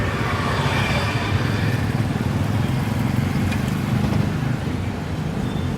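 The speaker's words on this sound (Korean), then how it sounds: "부릉부릉." A steady motorcycle engine rumble drones throughout, idling or passing nearby amid market street noise in Hanoi, Vietnam, with no break in the sound.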